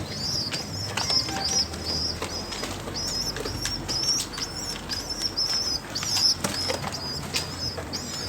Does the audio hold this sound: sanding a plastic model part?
no